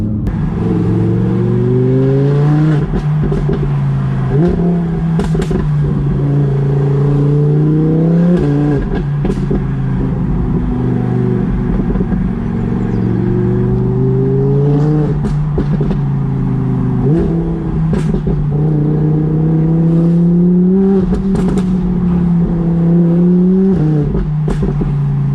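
An Audi R8 V10 Plus engine revs repeatedly, climbing and falling in pitch over a steady loud rumble, close by with no voices.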